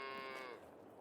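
A single short moo from a calf in Farming Simulator 22, close and clear, tapering off quickly.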